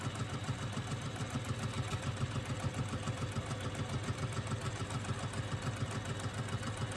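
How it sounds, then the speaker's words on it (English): A sewing machine runs steadily while stitching the side seams of a lining, a quiet, fast, even mechanical whir heard alone with no pauses. "again I'm going to stitch them using the 3/8 of an inch seam allowance"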